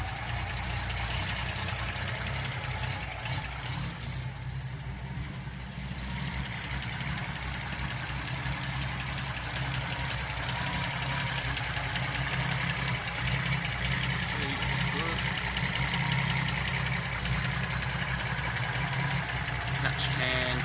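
Datsun engine with triple carburettors idling with the choke on while warming up, a steady low rumble with an even, slightly knocking pulse that runs the whole time at close range, with faint voices heard now and then.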